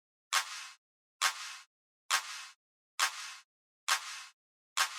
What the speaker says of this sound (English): we've got the claps. Sounds like this.